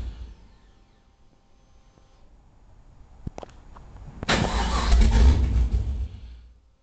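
A 1966 Chevrolet Nova fitted with a 2004 GTO engine cranks and fires up, breaking from near quiet into a loud, broad roar that settles into a rough idle.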